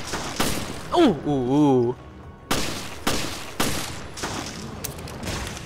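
Rapid bursts of gunfire from Resident Evil Revelations, several loud shots and short volleys spaced across the stretch, with a man's brief exclamation and a drawn-out vocal sound near the start.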